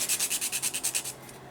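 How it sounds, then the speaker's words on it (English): Nail file held flat, filing builder gel on a nail while shaping an almond tip: about ten quick, even back-and-forth rasping strokes, close and crisp, then fading to stillness. "I have the nail file flat"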